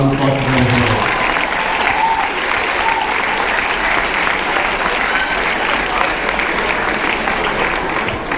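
A large audience applauds the staff at a closing ceremony, a dense, steady wash of clapping that stays loud and close throughout, with a voice speaking briefly over the first second.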